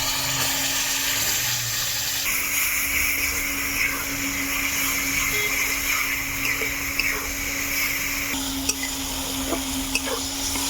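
Ground flat-bean paste fries in hot oil in a pan, producing a continuous bright sizzle with a low hum beneath and a few sharp stirring clicks near the end.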